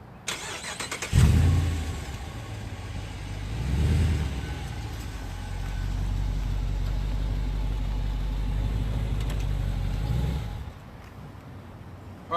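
2018 Dodge Charger HEMI starting up and pulling forward a short distance, a deep V8 rumble that swells briefly, then a steady low idle-like drone for several seconds before cutting off, heard nearby without talk.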